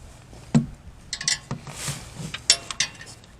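An oil drain bolt on a Honda Ridgeline is worked loose by hand, giving scattered metallic clicks, ratchet-like ticks and small scrapes, close and fairly quiet, with no talking.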